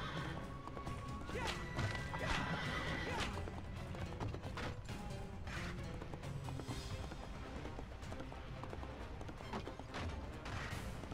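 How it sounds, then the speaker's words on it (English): Horses neigh and whinny amid clattering hooves, thuds and crashes in the Prince of Persia video game, a busy, faint mix of game effects heard with some talking. "And then beat up these horses."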